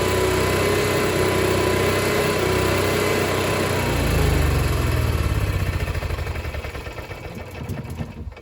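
An onboard generator on a 2022 Sunseeker 3010 DS motorhome runs after being started: a loud, close, steady engine hum with a harsh high whine, swelling briefly midway and then settling lower toward the end.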